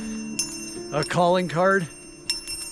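A small bear bell worn while hiking the North Rim Trail in Yellowstone National Park gives a few brief, bright jingles, close by, while a person talks between the rings.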